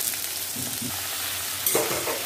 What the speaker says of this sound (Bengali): আলুটা দিয়ে দিয়েছি, এবার ভালো মতো নাড়াচাড়া করে মিশিয়ে নেব।